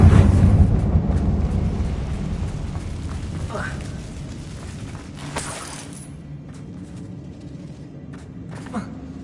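Confringo blasting spell explosion in the Hogwarts Legacy game, set in a closed mine that looks like a tomb: a loud, rumbling low boom that slowly fades, with scattered debris crackles and a brief shatter, mixed with speech.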